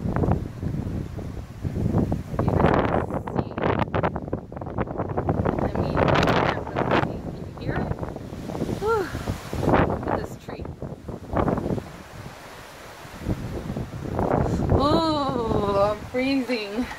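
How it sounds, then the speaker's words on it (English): Strong, freezing wind buffets the microphone outdoors, rumbling and gusting while a person talks over it throughout. "It is so windy out here."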